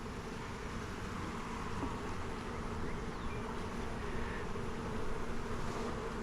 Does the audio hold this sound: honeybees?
yes